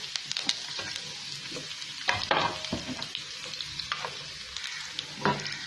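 Curry leaves, chillies and white cumin hitting hot oil for a dal tempering, a crisp crackling sizzle with sharp spitting pops, close and alone without talk.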